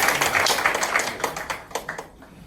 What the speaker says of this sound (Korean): 힘찬 박수로 격려해 주십시오